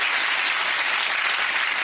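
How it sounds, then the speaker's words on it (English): An audience at a televised magic show applauds, a dense, steady wash of clapping from a large crowd throughout. "Give her a big round of applause, ladies and gentlemen."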